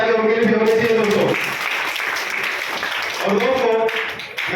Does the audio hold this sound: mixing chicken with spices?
no